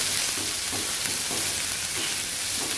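Okra sizzles and fries with onions in a pan for a tamarind okra dish, a steady close crackle with faint stirring pulses throughout and no talking.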